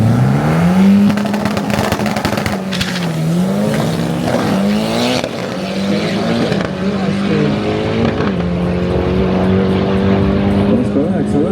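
A BMW race car fitted with a Toyota 2JZ engine runs on a track, its engine note rising and falling through repeated acceleration and gear changes, loud and near, with people talking over it.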